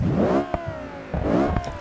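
A 5.2-litre V10 in the ETK FC10 ttSport grand tourer from BeamNG revs loudly and close, climbing in two sweeping pulls separated by a brief dip, with a sharp clatter between them.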